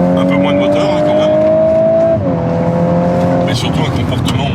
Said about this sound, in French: Et t'as vu là, elle a tombé un rapport, elle repasse tout de suite.